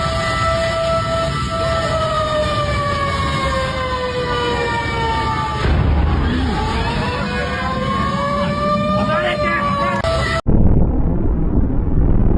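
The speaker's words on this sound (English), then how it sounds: "the sound of whispers and fire truck sirens added to the intense atmosphere" Fire truck sirens wail near and loud at a blaze, several overlapping rising and falling tones over heavy rumbling noise, cutting off abruptly near the end into steady roar.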